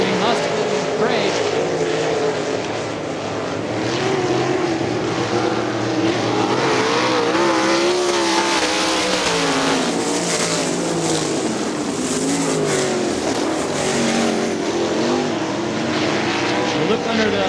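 Sprint cars race around the Ionia Raceway Park oval, their engines a continuous loud roar that wavers in pitch through the turns, with a commentator's voice running over the din.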